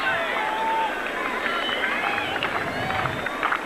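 The crowd at Roland Garros grows restless during the 1995 quarterfinal between Agassi and Kafelnikov, a steady murmur of stirring spectators and scattered calls. A commentator talks over the noise throughout.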